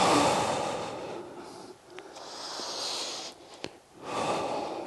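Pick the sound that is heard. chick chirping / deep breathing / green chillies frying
deep breathing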